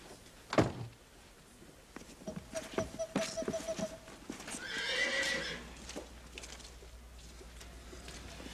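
Horses in a western frontier town whinny loudly and hooves clip-clop on the ground, with a sharp knock early on and a second drawn-out neigh midway, no talk over it.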